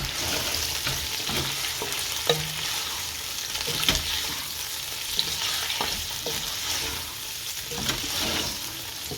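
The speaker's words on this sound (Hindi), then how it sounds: "अब हम इसमें डालते हैं चिकन, जो हमने अपना 1 किलो चिकन लिया था वो हम इसमें डाल देते हैं" One kilo of chicken sizzles and fries in a karahi pan, a continuous bright hiss with scattered clinks and scrapes from stirring, close and moderately quiet, no one speaking.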